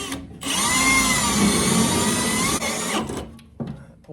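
A power drill drives screws into the toe board area of a 1969 Trans Am floor pan during rust repair, a loud, close, steady whine lasting a few seconds before stopping, then a brief second burst.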